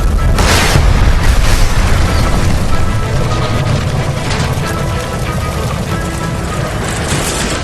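A gas line explodes in the video game LA Noire, a loud, deep boom that rolls into a sustained roar of fire and rumbling debris, dense and close with no talk over it.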